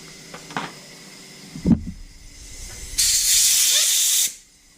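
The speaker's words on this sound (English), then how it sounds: "if you shoot your compressed air directly at your components, you'll be refining them for a week" Compressed air blasted onto Honda CB125E carburetor components during a kit rebuild: a loud, steady hiss lasting just over a second, preceded by a few faint workshop clicks.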